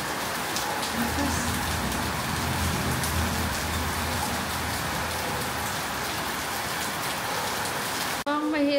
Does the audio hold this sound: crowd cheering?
no